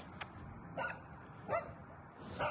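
A dog barks a few times at a moderate distance, short yelps spaced about a second apart over a quiet background.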